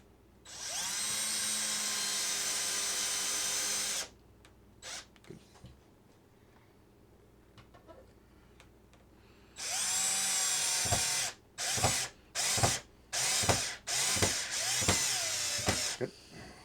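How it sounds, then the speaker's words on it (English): Cordless power drill driving screws into small wooden planks for a model railroad bridge, a long steady whir, a pause with faint handling noises, then a longer run followed by a rapid series of short bursts. "Okay, now we're just going to zip the screws in."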